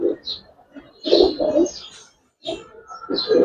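Giribaz coloured high-flyer pigeons in a seller's loft coo in repeated throaty bursts close to the microphone, several calls overlapping with short pauses between them.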